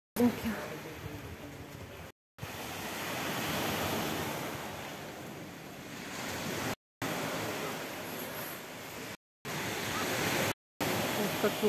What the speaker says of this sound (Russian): Как море шумит.